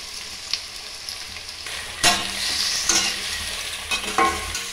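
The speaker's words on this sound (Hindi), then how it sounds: "पास्ता को हम भूनेंगे प्याज के साथ।" Boiled pasta is stirred and fried with onion in a pan, giving a soft continuous sizzle broken by a few sharper scraping and clattering stirs, close and fairly quiet, with no talking.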